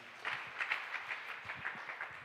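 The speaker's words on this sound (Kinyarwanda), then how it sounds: "Amashyi menshi ku Mana yacu." A church congregation claps, a soft, fairly distant patter of scattered hand claps that runs for a couple of seconds without speech.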